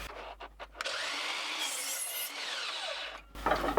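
A handsaw cuts through a wooden board, giving about two and a half seconds of steady, close rasping strokes, with a few brief knocks and handling sounds at either end.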